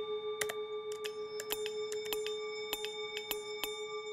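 A short metallic bell-like sound effect, meant as a gong in a Unity game, repeats as a rapid irregular series of bright pings over a steady tone, firing each time a bullet spawns.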